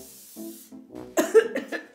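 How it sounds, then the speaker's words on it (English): A short, sharp cough rings out close by, followed by a few more breathy coughs and throat sounds. "You're coughing."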